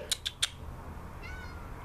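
A house cat gives three short, close meows in quick succession, followed by quiet room tone and a faint, brief sound near the end.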